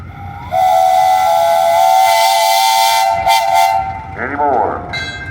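A steam engine at a parade, its running gear and boiler from a 1922 Buffalo Springfield road roller, blows one long, loud whistle, then a short second blast.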